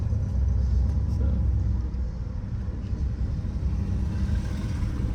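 A 1963 Chrysler Newport with a swapped 361 big block V8 and a stick shift drives along, its engine a steady low rumble with road noise from inside the car.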